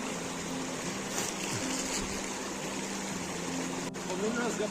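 A glacial meltwater stream flows steadily on a summer hike to Ultar Meadow in Hunza, a broad, constant rush of water close by with faint sounds in the background.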